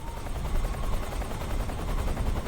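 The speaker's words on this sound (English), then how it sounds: "I don't want the helicopter to spot him." Helicopter in the video game Metal Gear Solid 3, a steady rapid rotor chop that runs throughout at moderate loudness, dense and low, with no talk over it.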